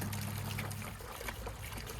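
Liquid trickles and pours steadily into the engine of a Slickcraft SS-235 boat with a 350 engine during winterizing, a continuous close splashing flow with low hum underneath.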